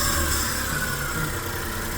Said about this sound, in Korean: 시동 한번 걸어 볼게요.